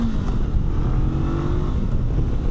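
A 2025 Honda NX500 motorcycle with a 500cc parallel twin engine hums steadily at low revs, a smooth, close, continuous drone with no talk over it.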